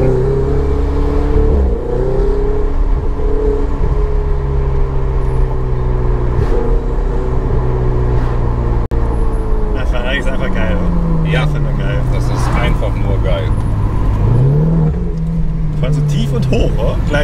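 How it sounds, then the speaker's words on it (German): A Ferrari 488 GTB with a 670 PS engine drives through town, its engine droning steadily and rising and falling in pitch as it revs, loud and close throughout, with people talking over it. "Und wenn du da richtig Gas gibst mit Drehzahl hoch, dann ist schon genial."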